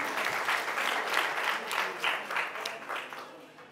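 Audience applause at a press conference for a Paris concert, a steady wash of many hands clapping at moderate distance that gradually fades toward the end.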